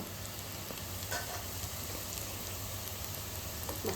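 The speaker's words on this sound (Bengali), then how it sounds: "আস্তে আস্তে চিকেনটা ভাজা হবে" Chicken mince and chana dal fritters frying slowly in hot oil over a low flame, giving a steady, soft broadband sizzle with faint crackles, fairly quiet and continuous with no voices.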